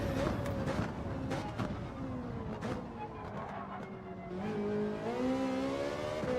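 Race car engine in Gran Turismo 7 during a daily online race, revving through rising and falling gear pitches with tire noise, steady and close, a voice talking faintly underneath.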